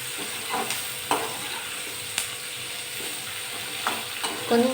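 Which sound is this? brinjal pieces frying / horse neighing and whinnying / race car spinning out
brinjal pieces frying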